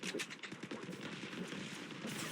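Rapid automatic gunfire in the hero shooter Marvel Rivals, fast repeated shots in a steady burst with more distant battle noise underneath, fairly quiet overall with no voices.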